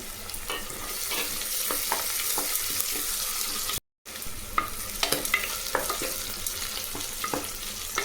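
Curry leaves and chopped green chillies sauté in hot oil in a pan, giving a steady, close sizzle with frequent small pops and spatula scrapes. The sound drops out briefly for a moment midway.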